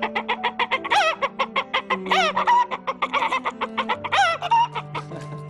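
A human voice imitates an agitated hen, with rapid repeated clucks rising into loud squawking cackles in bursts, close and clear with no other sound.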